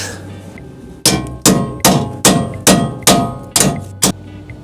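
A hammer strikes a chisel against a pipe welded onto a metal vehicle frame, giving seven loud, evenly spaced metallic clangs, each ringing briefly before the next blow.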